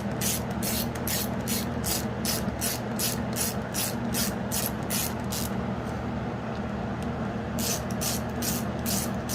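A ratchet wrench snugs bolts down on the head of a 1949 Farmall Cub engine during assembly: rapid, close clicking in short bursts with a brief pause before a final run, over a low background hum.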